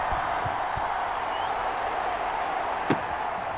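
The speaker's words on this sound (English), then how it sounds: "the crowd is loud and on its feet" Stadium crowd noise in the Madden 21 football video game, a loud, steady wash of roaring fans at a kickoff, with a single sharp knock or slam near the end.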